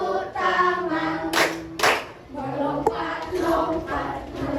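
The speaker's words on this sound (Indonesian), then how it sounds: "Iya, tepuk tangan untuk kita" Children in a primary school class clap their hands in quick bursts while chanting and calling out together, voices loud and close over the rhythmic clapping.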